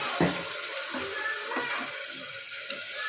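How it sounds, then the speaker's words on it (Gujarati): Water pours into a hot pan of spiced masala with a steady hiss and sizzle, broken by a few sharp clatters and scrapes of a utensil. "જરાક પાણી નાખીએ"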